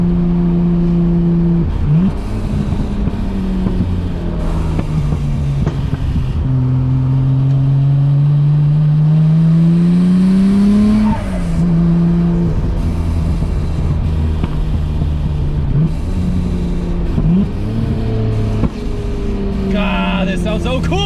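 Nissan R34 GTR with titanium intakes pulling hard at wide-open throttle, loud engine tone climbing through the revs, dropping at gear changes and climbing again several times, with occasional voices in the cabin.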